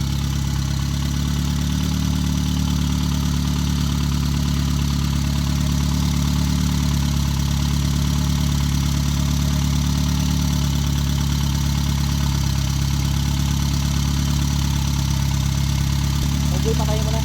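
A swapped Mazda 323 BPT turbo engine idles steadily on its first start after the swap, a loud, continuous low rumble that holds evenly throughout with no talk over it.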